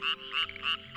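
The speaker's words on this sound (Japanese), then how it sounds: "ゲロゲロというカエルの鳴き声が聞こえてきました" Frogs, likely Tokyo daimyo or Nagoya-type Tonosama frogs, croak in a water-filled rice paddy in late spring, loud, close, rhythmic pulsing calls repeating about three times a second, with no talk.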